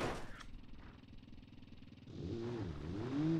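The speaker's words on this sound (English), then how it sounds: "Come on, the engine will start this way." Car engine starting in the BeamNG driving game on a slightly damaged engine: a faint cranking rumble followed by the engine catching and settling into a low running tone.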